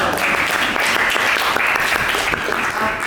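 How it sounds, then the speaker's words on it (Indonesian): Classroom audience applauding a student presenter, steady dense clapping from many hands that fills the whole moment at a loud, even level. "Tepuk tangan untuk Anda"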